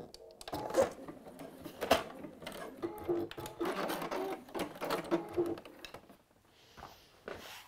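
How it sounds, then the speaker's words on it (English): A domestic sewing machine top stitches fabric in quick uneven bursts of soft mechanical whirring, fairly quiet and close, before stopping near the end. "Just top stitched along there."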